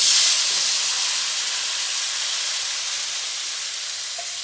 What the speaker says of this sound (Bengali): এগুলি খুব ভালোভাবে ধুয়ে পরিষ্কার করে ওই গরম তেলে দিয়ে দেব।